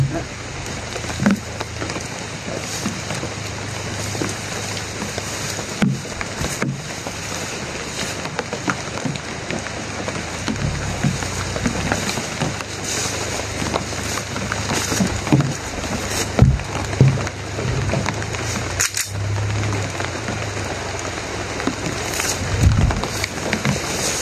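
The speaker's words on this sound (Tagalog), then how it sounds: "sobrang lakas po ng ulan mga tol." Heavy rain pouring steadily onto a surface, a dense close roar with scattered louder drops and splashes throughout.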